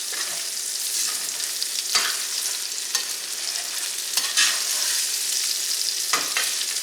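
Fried rice tossed with a spatula in a skillet: a continuous bright sizzle punctuated by several sharp scraping tosses spaced a second or so apart, close and moderately loud, with no voices.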